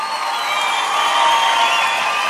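A live concert audience claps and cheers at a show, a dense, steady wash of applause with scattered whoops heard from within the crowd.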